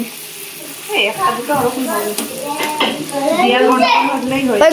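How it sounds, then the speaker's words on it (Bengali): Fuchka puris deep-frying in hot oil and turned until red-brown make a steady, loud sizzle with a few stirring clinks, running under a voice throughout. "ফুচকাগুলো কিন্তু এপিট ওপিট করে ভালো করে লাল লাল করে ভেজে নিতে হবে"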